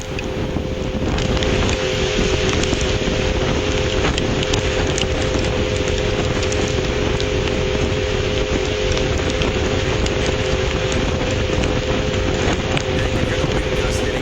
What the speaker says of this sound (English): you're continually hearing sort of that roar or the whoosh of the wind